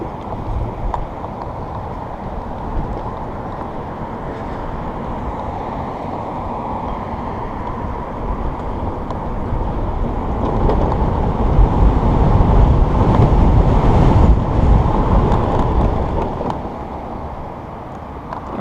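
A Vmoto E-Max 120S electric motorcycle rides past, giving a soft whirring hum mixed with wind noise that swells louder toward the middle and then fades, with no talk.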